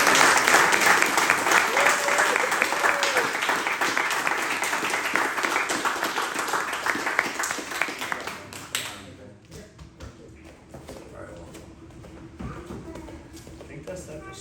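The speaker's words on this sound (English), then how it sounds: "So let's give him a round of applause for that." Applause from the group at a jiu-jitsu belt promotion, a loud, dense round of clapping with some thuds that tapers off after about nine seconds, leaving quiet room noise and faint shuffling.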